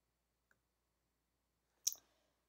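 A computer mouse gives one faint tick and then a single sharp click on an OK button, close by in a quiet room.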